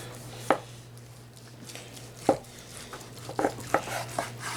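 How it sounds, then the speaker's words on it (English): A knife working through a smoked bone-in rib roast between the bones, a few separate thuds and crunchy cuts against a board with long pauses, close but fairly quiet over a steady low hum. "We're gonna cut it right between the first and second bone here"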